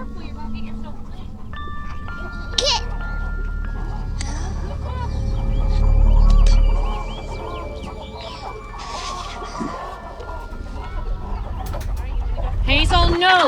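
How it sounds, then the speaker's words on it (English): Chickens cluck and call on a farm, scattered bursts over a steady rumbling background, with people talking throughout. "Chickens. They're so careful."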